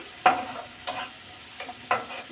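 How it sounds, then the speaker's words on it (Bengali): Ground turmeric, chili and other spices sizzling in a pan while being stirred, with three or four distinct scraping strokes over a quiet, steady sizzle close by. "আর এই তো সমস্ত মশলাগুলো আমি কষিয়ে নিয়েছি"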